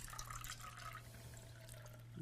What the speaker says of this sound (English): I want you to pour your water into that right there.